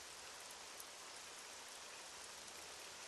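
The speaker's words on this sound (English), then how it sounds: "Huh. Rain." Steady, dense rain pours throughout a scene in the fighting game Granblue Fantasy: Versus, a constant even hiss with no breaks and no voices.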